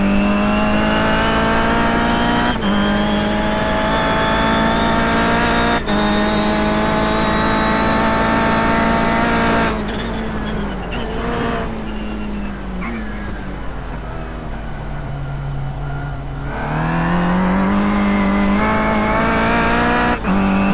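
Race car in the iRacing sim at Oran Park: a loud, steady engine note holding high revs, dropping and climbing through gear changes around a chicane and corner, with a brief tire squeal.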